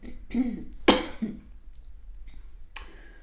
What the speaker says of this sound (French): Si vous m'entendez tousser